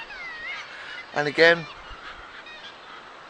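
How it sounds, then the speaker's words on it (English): Seabirds at cliffs in Iceland call in a brief loud burst of harsh honking notes around the middle, with softer calls and a faint background hush before and after, a short spoken phrase included. "can hear the birds in the background."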